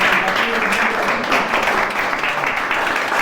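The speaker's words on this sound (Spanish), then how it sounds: "Un aplauso. Un aplauso para ustedes." A studio audience at a technology show's 200th-episode taping applauds in a steady, dense wash of clapping that fills the whole stretch without letting up.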